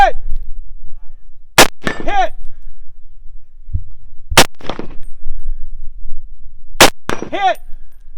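At a high desert shooting match stage, sharp gunshots ring out, each followed by a bright metallic clang as bullets strike steel targets, spaced several seconds apart in a quiet outdoor setting.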